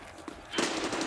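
Automatic gunfire in Escape from Tarkov Arena, a fast burst of rapid shots that swells louder in the second half, near and harsh, with no talking.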